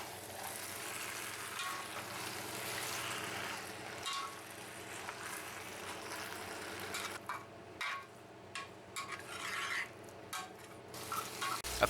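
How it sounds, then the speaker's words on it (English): Leftover corned beef and cooked vegetables being stirred and mashed together in a pan for bubble and squeak: continuous soft sizzling under repeated scraping and pressing of a utensil, growing choppier toward the end. "Add in the leftover corned beef and stir everything around. We press down to mash it all together"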